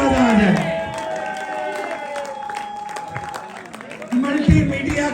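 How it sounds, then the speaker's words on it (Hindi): An audience applauds at a ceremony honouring film, TV and stage artists, with a wash of clapping and crowd noise that swells near the end, mixed with a voice and sustained tones. "सब मिलके ताली इतनी अच्छी होनी चाहिए कि मजा आ जाए"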